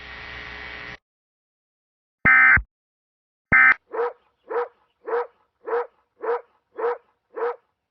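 A dog barks in a TV commercial: after a brief burst of noise and two short electronic tones, eight evenly spaced barks ring out alone, clear and fairly close, in a steady rhythm.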